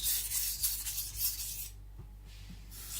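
A Shibata Kotetsu gyuto knife slides across a coarse Shapton Pro 220 whetstone in a few close, gritty, rasping strokes, then fades to near quiet with a light tap.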